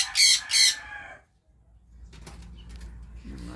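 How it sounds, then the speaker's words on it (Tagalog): Pet cockatiels and other small birds in a mini aviary give two loud, close calls in quick succession, then a quieter stretch of faint chirps and rustling with a low background hum. "Yung ating update sa ating mga ibon."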